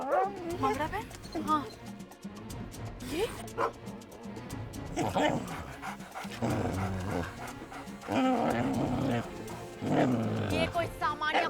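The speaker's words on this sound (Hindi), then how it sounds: "ये कोई सामान्य कुत्ते नहीं है, ये तो कंगना के शैतानी साथी है" Several dogs growl, bark and snarl in a loud, chaotic stretch, heavily mixed with dramatic music and effects.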